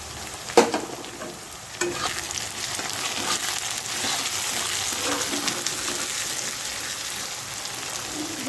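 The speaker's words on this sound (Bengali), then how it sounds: "পেঁয়াজটা লাল করে ভাজা নিয়েছি এখন টমেটোটা দিয়ে দেব" Onion and tomato fry in a pan while being stirred, giving a steady close sizzle with scraping strokes throughout and no talking.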